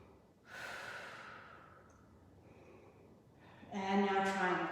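Heavy breathing held through a reverse triangle yoga pose in a strength session with weights, a few long audible inhales and exhales close to the microphone, alone with no talk.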